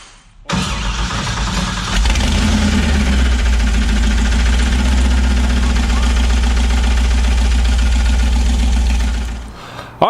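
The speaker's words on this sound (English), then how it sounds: "just got this thing to fire up for the first time on the Holley Dominator EFI" A car engine running on a new Holley Dominator EFI system fires up for the first time. It cranks briefly, catches and settles into a loud, rough, steady run close by for about nine seconds.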